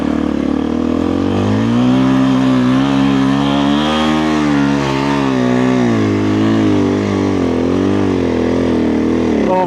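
A motorcycle fitted with a Dobeck EJK fuel controller and Fastway ProMoto billet end cap accelerating in second gear, loud close engine note rising and falling in pitch as it pulls steadily, with no talking.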